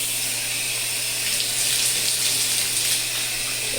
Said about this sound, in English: it's a nice gentle, not like too harsh, but that water flow is still there